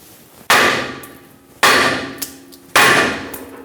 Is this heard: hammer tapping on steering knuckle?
yes